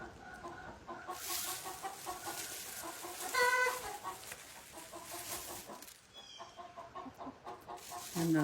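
A peahen clucks repeatedly in short, close bursts outdoors, with other fowl murmuring around her and a brief higher squawk partway through.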